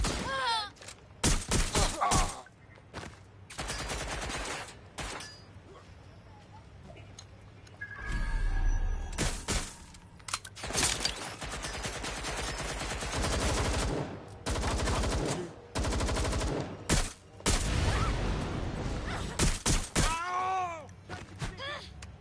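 Gunshots ring out in the Watch Dogs Legion video game, firing through glass: bursts of shots and sharp impacts recur across the scene, mixed with game music, effects and voices talking.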